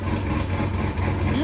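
A cammed Chevy Silverado V8 with headers and a used Corsa muffler idles close by, a steady, deep, throbbing rumble that holds level and unbroken for the whole short stretch.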